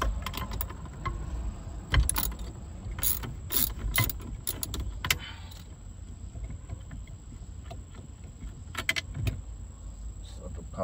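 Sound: removing the steering shaft nut on a 1986 Buick Regal

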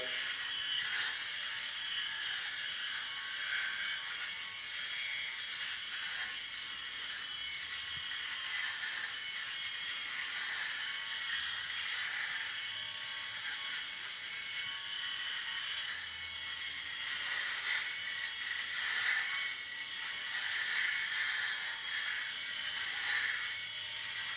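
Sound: Philips S5150/26 electric shaver shaving in circular motions

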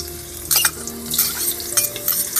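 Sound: garlic paste frying in hot oil in a wok

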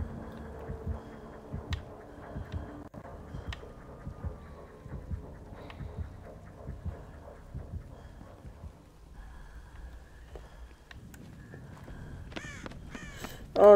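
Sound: crow cawing in video game Dead by Daylight

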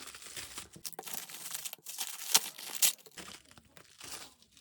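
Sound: tearing open a delivered parcel package

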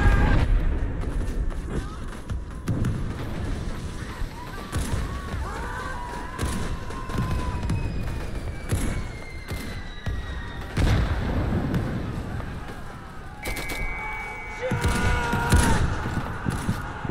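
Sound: grenade explosions in a video game

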